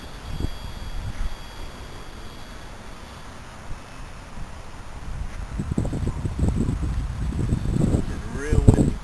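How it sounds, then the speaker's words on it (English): Strong gusting wind buffets the microphone outdoors with a steady broadband rush, swelling in louder bursts toward the end, while a small Parkzone T-28 radio-control plane with added flaps is flown nearby and people talk underneath. "It's real windy"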